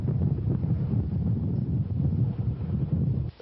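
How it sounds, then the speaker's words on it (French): Icy wind sweeps across the Mongolian steppes in winter, a steady dense roar of gusting air that holds loud and even throughout before dropping away at the very end, with no voices. "ce vent glacial qui balaie les steppes depuis plus de 4 mois"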